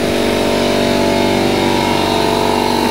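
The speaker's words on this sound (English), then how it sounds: "Well, there's the compressor." An outdoor air conditioning compressor runs beside a newly built home in a subdivision, giving a loud, close, steady mechanical drone with a low hum and no voices.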